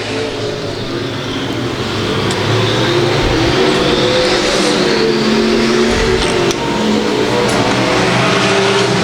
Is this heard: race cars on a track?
yes